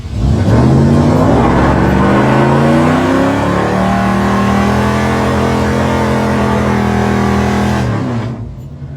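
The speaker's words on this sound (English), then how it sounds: "Hope you enjoyed that little burnout there with the 73 Swinger." A 1973 Dodge Dart Swinger roars through a burnout, its engine held at loud, rising revs for about eight seconds before cutting off abruptly, with no talking.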